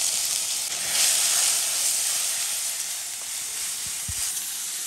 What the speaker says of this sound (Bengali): তেল গরম হয়ে গেছে, আমি তেজপাতা জিরে দিয়ে দিচ্ছি।